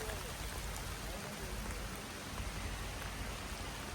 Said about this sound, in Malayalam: നല്ല കിടില മഴ തുടങ്ങി മേഘമൊക്കെ നല്ല കറുത്ത്